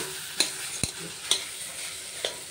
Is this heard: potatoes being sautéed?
yes